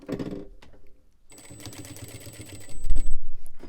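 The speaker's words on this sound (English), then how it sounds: "if you're sewing along and you want, you can go ahead and reduce that stitch length a little bit if you like" A sewing machine stitches a back seat car organizer at a shortened stitch length, its rapid mechanical whirring running steadily and growing louder and heavier toward the end, with a brief pause early on.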